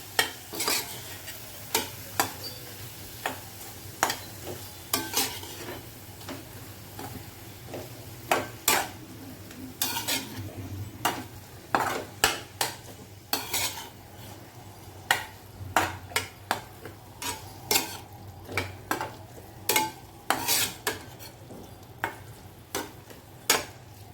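Marinated soya chunks sautéed in a pan, a soft sizzle beneath repeated sharp clacks and scrapes of a spoon stirring against the metal, steady and close throughout.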